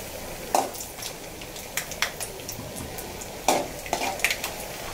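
Peanuts fry in a little hot oil in a kadai, a soft steady sizzle broken by scattered scraping and clinking stirs of a spoon against the pan.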